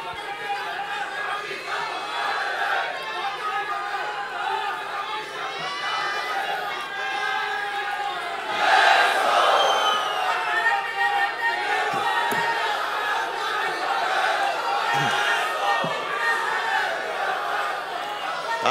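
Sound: rally crowd cheering

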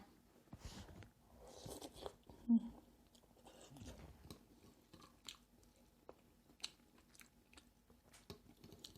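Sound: eating and chewing Vietnamese kuay jab noodles

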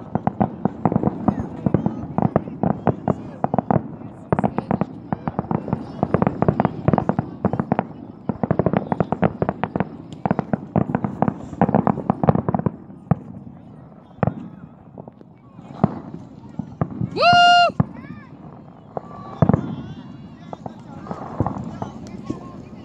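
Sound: sparkly fireworks exploding

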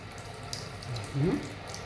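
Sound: hot water running from a tap

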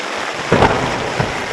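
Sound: heavy rain with thunder

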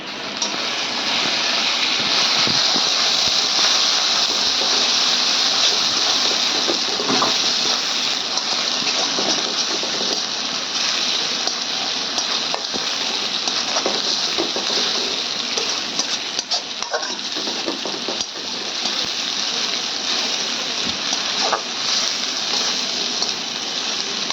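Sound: shrimp pieces frying in oil

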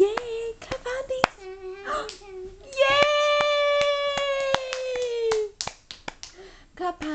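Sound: child clapping hands

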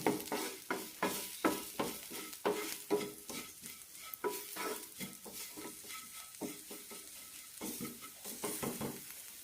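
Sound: frying and stirring spice powders for banana flower curry

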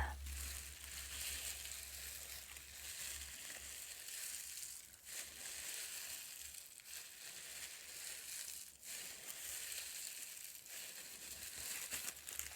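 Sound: bubble wrap being crumpled by hand

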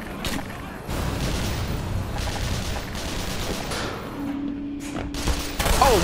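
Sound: gunfire from the video game Black Mesa

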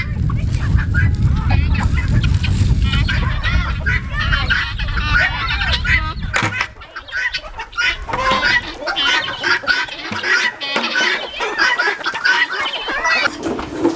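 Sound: chickens clucking at feeding time

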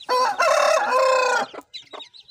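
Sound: chickens clucking

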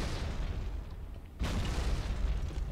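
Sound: grenade explosion in the video game Halo 2

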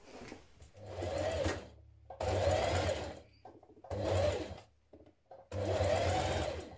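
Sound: sewing machine stitching a 1 centimetre seam

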